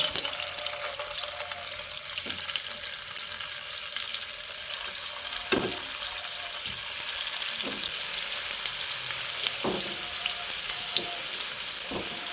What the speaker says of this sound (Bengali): এবার আমি যে কাবাবগুলো তৈরি করে রেখেছি সেগুলো এর মধ্যে একে একে দিয়ে দিচ্ছি